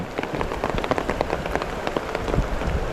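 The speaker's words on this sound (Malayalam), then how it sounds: "ഞാൻ ഈ മഴയത്ത് ഇങ്ങനെ നിൽക്കാം" Steady summer rain falls and patters on surfaces nearby, a dense, continuous wash of drops with scattered louder splashes throughout, no voices present.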